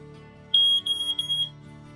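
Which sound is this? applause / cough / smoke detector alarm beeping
smoke detector alarm beeping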